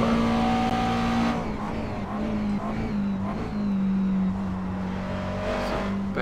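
A mid-engine Grand Am road racing car in the iRacing sim at Road Atlanta drones steadily at high revs, its engine note dipping and rising through gear changes and corners, loud and continuous with no talk.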